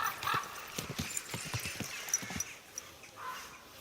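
A single horse walks in Kingdom Come Deliverance II, its hooves clip-clopping in a close, uneven rhythm of about a dozen crisp strikes that fade near the end.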